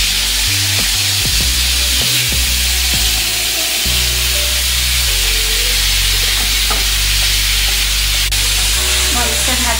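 Marinated prawns fry in a hot pan with a steady, close sizzle, broken by a few clattering stirs of a utensil near the start and a background drone throughout.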